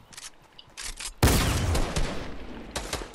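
Gunfire in the video game Fortnite: a sudden loud burst of rapid shots and booms erupts midway and rumbles on, preceded by a few quieter sharp bursts, with more crackling shots near the end.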